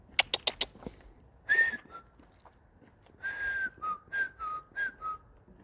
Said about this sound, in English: She's following me, the magpie.